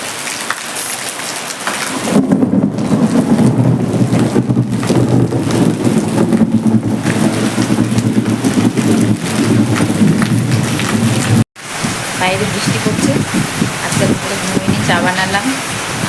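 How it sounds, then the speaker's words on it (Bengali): Heavy monsoon rain pours down in a dense, constant hiss during a lightning storm, loud and close, with a brief dropout partway through; faint voices and distant rumbles sit beneath it. "কি বৃষ্টি দেখো মুসল ধারে বৃষ্টি হচ্ছে"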